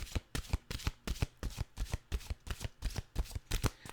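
Cards from a mantra oracle deck being shuffled by hand, a steady run of crisp riffling bursts about three per second, close and clear for several seconds with no voice.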